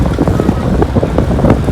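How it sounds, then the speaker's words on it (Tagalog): Constant heavy wind buffeting the microphone with a loud, rumbling roar and no pause, on a bike ride near Mt. Balungao in eastern Pangasinan. "Sobrang lakas ng hangin."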